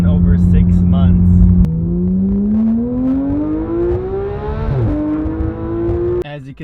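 Porsche GT3 engine, a 10-year-old car, revving high toward 9,000 RPM, its loud rising whine climbing steadily over several seconds with a brief dip and shift before settling, close and continuous throughout.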